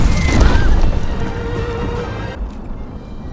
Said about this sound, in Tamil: இவங்க போற வழியில வர்ற அத்தனை தடைகளையும் இவன் பீரங்கியாலேயே சுட்டு தள்ளிட்டு இருக்கான்